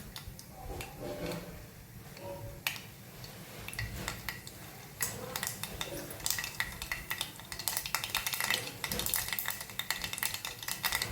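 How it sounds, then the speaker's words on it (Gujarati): Mustard seeds splutter in hot oil in a pan at the start of a cluster bean and potato curry. Dense crackling pops and rapid ticking build in intensity and stay loud and close throughout. "હવે આપણે એમાં રાઈ એડ કરીશું."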